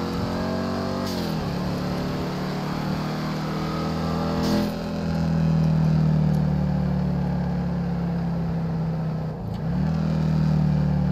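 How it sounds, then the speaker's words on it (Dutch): Dodge Challenger rolling down from high speed, a loud, close engine drone holding steady with a low rumble. It dips briefly twice, near the start and near the end. "Ik ga hem een keer gewoon laten uitrollen, hè."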